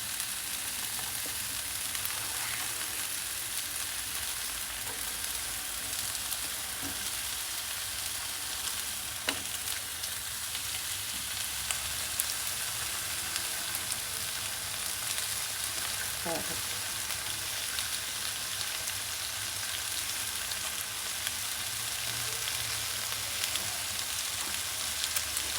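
Onions sauté in a pan for an omelette wrap, a continuous even sizzle heard close by, with occasional light clicks of stirring and faint voices in the background.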